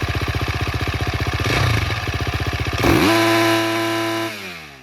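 A motocross bike engine under a sound-level test putters in a rapid idle pulse, then revs hard twice, the second rise settling into a loud, sustained high-pitched scream before easing off.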